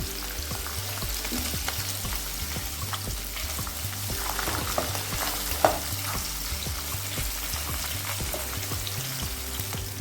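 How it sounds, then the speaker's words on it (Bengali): Tangra fish rubbed with salt and turmeric fry in hot white oil, making a loud, continuous crackling sizzle with occasional stirring clicks throughout. "এবার দিয়ে দেবো মাছ মাছগুলোতে নুন হলুদ মাখিয়ে নিয়েছি আমি প্রথমে অর্ধেকটা মাছ দিচ্ছি"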